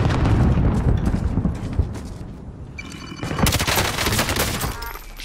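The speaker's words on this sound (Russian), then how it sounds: "Бросаю гранату." Grenade blast in Warzone amid a heavy firefight, with loud gunfire bursts throughout and a burst of booming noise rising in the second half.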